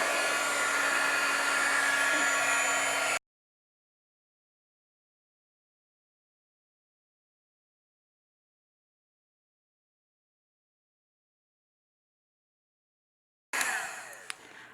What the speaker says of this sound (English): And then we're going to heat emboss this again.